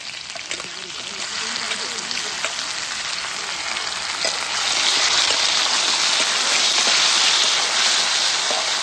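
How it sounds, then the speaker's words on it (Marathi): Chopped tomato sizzles and spatters in hot oil with garlic and cumin in a pan, a steady close frying hiss that grows louder midway, with someone speaking over it. "मस्त टाकून तांबाट फोडून देणार आता तेलात"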